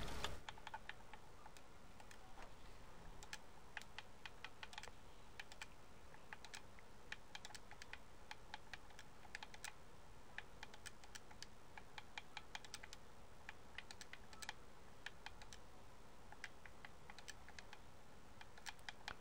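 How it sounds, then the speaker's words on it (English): Someone types on a computer keyboard during a Fortnite session, a quiet, steady patter of keystrokes with occasional firmer taps, close and without speech. "Wait, I'm typing."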